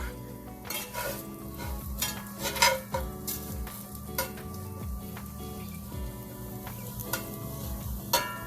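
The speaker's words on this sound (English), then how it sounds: "So I'm going to remove them from the pan and let the potato cook." Potatoes cooking in a pan with steady frying and a constant sizzle, broken up by repeated scrapes and clinks of a utensil against the pan. A tonal hum sits underneath, and no one speaks.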